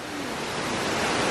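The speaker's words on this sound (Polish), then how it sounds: "jak ten wodospad tam z gór spływa" Giessbach waterfall in the Swiss mountains near Brienz, heard as a steady, dense rush of falling water that fills the whole clip, loud and unbroken with no voices.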